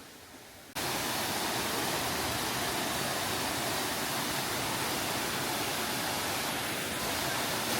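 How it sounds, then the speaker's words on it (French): A waterfall at Tetebatu roars in a dense, steady wash of rushing water that starts abruptly and stays loud and constant, with no voices. "Bon ben voilà la cascade."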